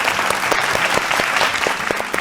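Studio audience on a Bengali family game show claps loudly and steadily, a dense burst of applause close by with no talk over it.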